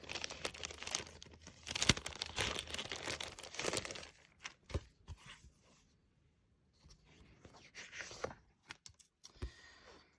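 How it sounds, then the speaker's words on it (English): Planner sticker kit package being opened, with crinkling and tearing of plastic and paper packaging loudest over the first four seconds, then sparse handling rustles and taps close by with no talk. "I'm just going to open this for you so you could see what their sticker kits look like."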